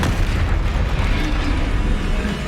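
Confringo fire spell explosion in Hogwarts Legacy, a dense, loud low-end boom that rumbles steadily throughout the short burst of combat noise.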